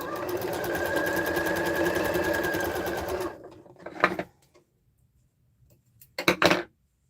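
A sewing machine chain-pieces quilt patches for a sweater quilt, running steadily and close for about three seconds before stopping, followed by a few short bursts of cutting and handling sounds.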